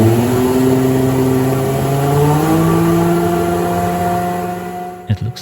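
Engines on a trombone test rig run at low RPM as a loud, steady, close-up droning hum whose pitch climbs slightly, ending in a few sharp rattling clicks.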